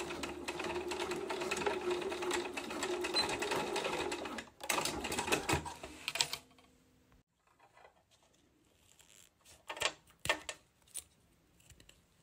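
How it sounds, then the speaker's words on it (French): A sewing machine stitches a zipper seam on a pouch, a steady rapid whirring run for about six seconds that stops, followed by quiet handling and a few clicks and rustles. "Et je vais faire la même couture de l'autre côté."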